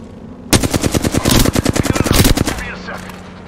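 Rapid automatic gunfire from the video game Apex Legends, a fast loud burst of about two seconds of evenly spaced shots, with faint speech before and after.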